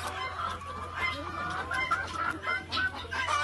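Chickens clucking close by on a Sri Lankan chicken farm, several overlapping short calls in an irregular stream over a low steady hum.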